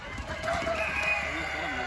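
A hen sits on her eggs in a Qatar farm setting, giving soft clucks and faint fowl calls under steady background noise, with someone talking nearby.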